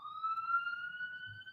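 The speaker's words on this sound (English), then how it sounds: "a siren passing by" An ambulance siren sweeps by in a steady rising wail, loud and clear with faint rumble of traffic underneath.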